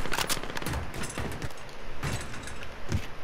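Video game gunfire rattles in rapid bursts, a dense series of sharp shots and impacts that continues throughout with no talk over it.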